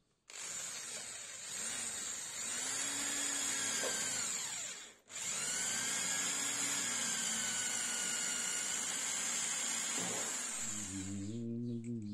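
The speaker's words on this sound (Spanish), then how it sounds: "desde el otro extremo la vamos a agujerear con la misma mecha de 3 milímetros" A drill with a 3 mm bit boring through a blind nut, a loud high-pitched whine that runs, briefly cuts out midway, then resumes and winds down at the end.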